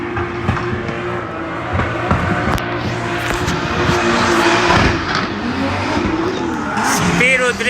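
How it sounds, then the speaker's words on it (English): A race car drifts during Cyprus drift practice, its engine revving hard and its tires squealing continuously, loud and close, while a commentator talks over it. "Spiro drifting."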